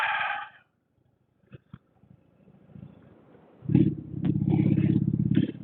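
A 2018 Indian Roadmaster motorcycle engine rumbles while riding, quiet and broken at first, then swelling into a loud, steady low drone for the last two seconds.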